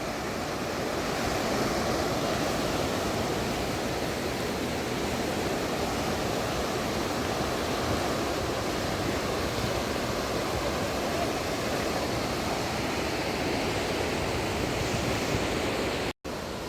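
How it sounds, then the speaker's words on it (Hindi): The swollen Ganges at Haridwar rushes in flood, a loud, unbroken roar of turbulent water mixed with wind buffeting, steady throughout with no voices. "और इतना चौड़ा बहाव, ऐसे छलांग मार रही है माँ गंगा ऊपर को"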